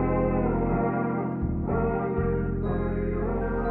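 Layered RnB choir vocals pitched down eight semitones with Logic's Vary Speed at roughly 61 BPM, a dense, deep sustained chord that stays loud and unbroken, with shifting low tones.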